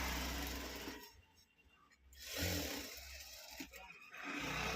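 A sewing machine stitches folded fabric for a dori tie, its motor whirring in loud bursts with short pauses between runs.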